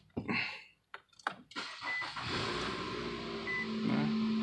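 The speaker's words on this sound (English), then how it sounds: "Let me start it up for you guys." A 2017 Nissan Altima SV with 40,000 miles cranks with a few clicks and a brief starter whir, then catches and settles into a steady, close idle, with a faint tone near the end.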